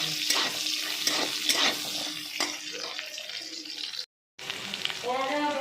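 Green chilies and dried red chilies frying in oil while being stirred, for chicken 65, a close crackling sizzle with spoon scrapes, a brief cut to silence, then a voice speaks over renewed sizzling.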